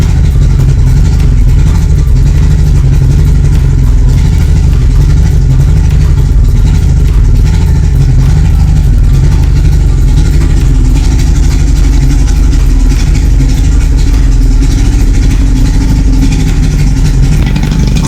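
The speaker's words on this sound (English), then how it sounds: "motor is running on idle" A Yamaha HPDI outboard motor idles steadily, a loud, close, continuous low rumble with even mechanical knocking throughout and no speech.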